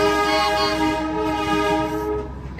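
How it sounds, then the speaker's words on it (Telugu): The Darjeeling toy train's horn sounds in one long, loud, sustained blast close by, ringing steadily for over two seconds over the low rumble of the running train before fading slightly. "టాయ్ ట్రైన్ ఏంటో రియల్ ట్రైన్ లాగా ఉంది."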